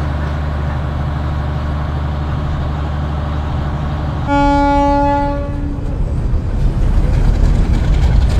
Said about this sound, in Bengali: ট্রেন ছেড়ে দিল যথারীতি মাত্র 1 মিনিট বিরতি দিয়ে।